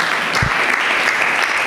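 An audience at a Rwanda Leather Value Chain Association members' gathering bursts into dense, loud applause, many hands clapping at once in a steady wash that fills the whole short moment.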